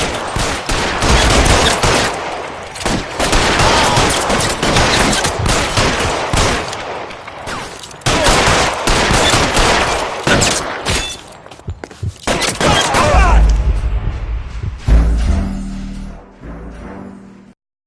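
Gunfire rattles through a PS4 video game in loud, dense volleys of shots, with rapid automatic bursts and heavy thuds. The firing pauses briefly and then resumes before fading out near the end.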